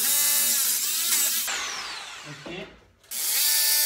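A power drill unscrewing a PVC or wooden window frame, whining loudly and close for about a second and a half, then a ratcheting mechanical stretch, a brief pause and a renewed burst, with a short spoken word.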